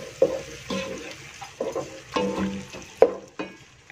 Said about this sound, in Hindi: अब हम इसमें डालेंगे हमारा ये जो काजू का पिसा हुआ पेस्ट था, वो सारा शामिल कर देंगे हम इसमें